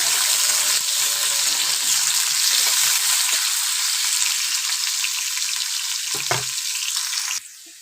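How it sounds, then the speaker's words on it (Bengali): Loud, dense sizzling of carrots frying in oil, steady throughout before cutting off sharply near the end; no talking. "গাজর কাটা দিয়ে খুব ভালো করে ভেজে নেব"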